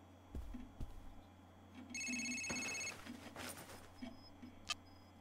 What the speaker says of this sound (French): J'ai répondu au téléphone depuis ton bureau parce que ça n'arrêtait pas de sonner